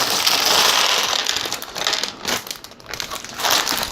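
A plastic bag of LEGO parts crinkles and rustles up close, in uneven bursts of crackly handling with brief quieter gaps between.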